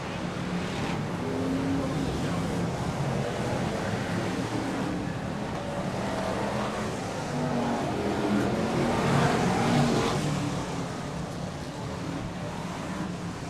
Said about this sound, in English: BriSCA Formula 1 stock cars.